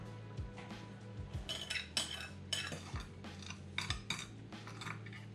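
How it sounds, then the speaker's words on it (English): Metal clinks and scrapes as tuna belly loin is set into a metal oven tray, a run of light irregular knocks and clatters close by, with no talking. "Now what I'm gonna do is gonna put it in our"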